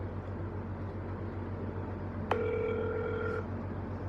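A phone call to Domino's rings out once: a single clear ringing tone sounds for about a second over a low steady hum, with no talking.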